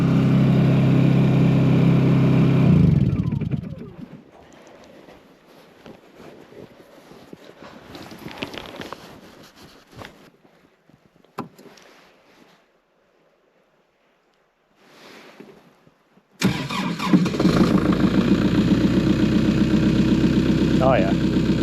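A snow plow truck engine runs loudly at idle at the start, drops away into quieter rumbling and clatter, then roars back in strongly near the end.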